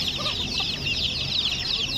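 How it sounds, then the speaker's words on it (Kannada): Chickens cluck steadily at the Badiadka Saturday market, a continuous chattering mass of bird calls over a low background din, with no clear speech. "ಕಲರ್ ಕೋಳಿ."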